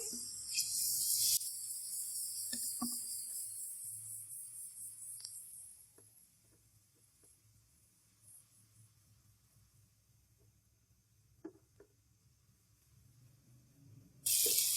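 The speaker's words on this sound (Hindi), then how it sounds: "थोड़ा सा हम पानी ऐड करेंगे।" Water added to frying masala for chikar cholay, a sharp loud hiss and sizzle at the start that settles into a faint bubbling simmer, with clinks of utensils and another loud sizzle burst at the very end.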